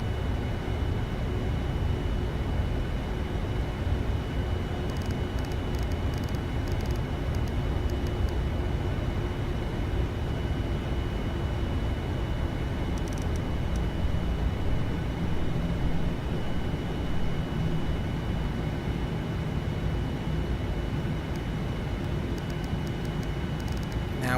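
Airliner on approach to land in the flight simulator FSX, a steady broadband engine and airflow roar that holds constant and loud throughout with no voices.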